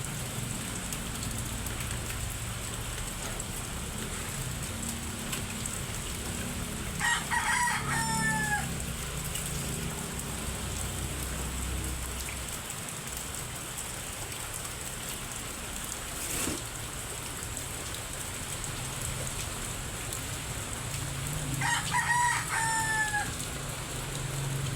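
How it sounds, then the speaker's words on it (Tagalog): Steady heavy rain pours continuously behind a house, a dense hiss filling the whole scene, while a rooster crows twice in the distance over it. "Wala nang tigil ang ulan."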